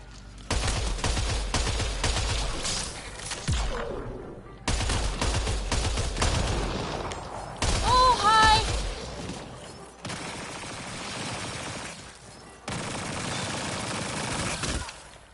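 Gunfire in the video game Mass Effect Andromeda on the planet Havarl: repeated bursts of rapid shots in loud clusters separated by short pauses, with a few other game effects mixed in.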